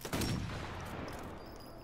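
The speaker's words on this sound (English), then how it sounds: "I did a warning shot." Single gunshot fired as a warning in the video game Sniper Elite 4, a sharp loud crack near the start followed by a long rumbling reverberant tail that fades over two seconds.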